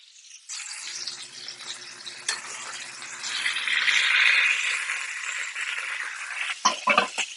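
Seared lamb sizzles and hisses loudly in a pan while the fat is drained off, a continuous bright spitting hiss that builds midway, ending with a few clunks of the pan.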